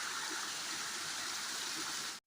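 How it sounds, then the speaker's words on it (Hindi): Jungle waterfall on a trekking route, a steady broadband rush of falling water filling the whole scene, close and even, with no voices. "झरने भी बहुत सुंदर सुंदर से दिखाई दे रहे हैं यहाँ से।"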